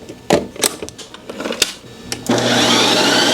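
A Ninja Creami machine respinning a pint of low-calorie ice cream, starting with a few clicks and thuds and then settling into a loud, steady whirring grind for the last second.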